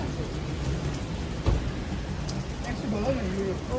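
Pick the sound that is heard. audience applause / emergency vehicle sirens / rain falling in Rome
rain falling in Rome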